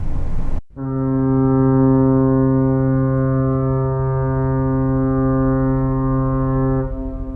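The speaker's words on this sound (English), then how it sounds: "that noise is a fog warning" A loud, steady fog warning horn blares one long, sustained droning blast for several seconds after a brief noisy start, then fades slightly at the end.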